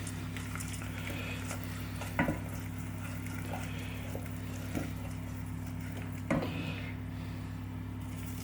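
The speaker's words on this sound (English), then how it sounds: "Stir them in." Oats being stirred into a warm pan of vegan flapjack mixture, a faint continuous sizzle and soft scraping, with three sharper clacks of the spoon against the pan spread across the clip, and a steady hum behind.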